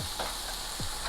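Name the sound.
onions stir frying in pan for fried rice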